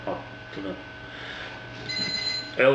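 A brew-day timer alarm marks the end of the boil while brewing an East Coast IPA, sounding as a steady electronic beeping tone over background noise, with someone speaking around it.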